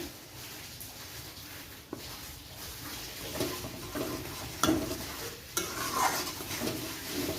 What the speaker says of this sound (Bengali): সুজিটা আমি আস্তে আস্তে নাড়িয়ে নিয়ে শক্ত একটা ডোর আকার তৈরি করে নেব